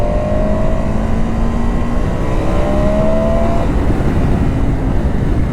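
A KTM 1290 Super Adventure S motorcycle pulls hard in third gear on an open road, its engine a loud, sustained drone with rising tones under heavy rushing wind. Nobody speaks.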